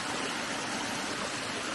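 Strong, even roar of a little hillside waterfall in full flow, heard up close as a constant broadband wash of splashing water.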